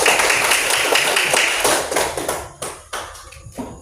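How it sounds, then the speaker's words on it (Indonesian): Classroom clapping for a student group, a burst of many hands clapping together that thins out into a few scattered, separate claps near the end. "Ayo, tepuk tangan untuk kelompok 2."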